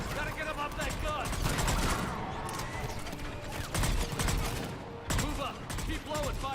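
Rapid bursts of gunfire from a Mass Effect 3 firefight crackle as loud, close volleys, with a brief lull in the middle, under shouted voices.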